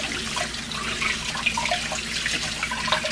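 A pumpkin rinsed under a running kitchen tap, water splashing and dripping irregularly against the gourd and sink, close and moderately loud with no talk.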